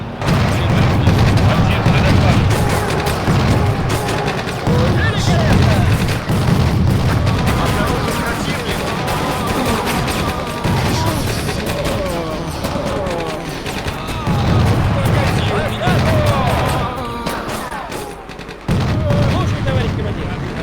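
Gunfire and booming cannon shots in a tank video game repeat in heavy, loud bursts and rumbles throughout, with sporadic voice chatter underneath.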